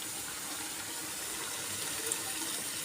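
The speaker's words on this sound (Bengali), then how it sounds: "এখানে আমি সামান্য একটু পানি দিয়ে দিব।" A small splash of water is poured into a pan of cooking chicken filling for samosas, a soft steady trickling wash that runs evenly and close by for the whole moment.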